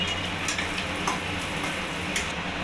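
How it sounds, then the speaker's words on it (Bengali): Whole cumin, bay leaf, dried chilli, peppercorns, cinnamon, cloves and cardamom sizzling in hot prawn oil over a high gas flame, a steady close crackle with scattered small pops, no talking. "চিংড়ি মাছের তেলের মধ্যেই আমি এখানে দিয়ে দেবো গোটা জিরে, তেজপাতা, শুকনো লঙ্কা, গোলমরিচ"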